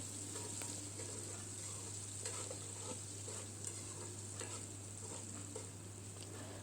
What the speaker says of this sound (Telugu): సన్నగా కట్ చేసుకున్న రెండు మీడియం సైజు ఉల్లిగడ్డలు వేసుకోవాలి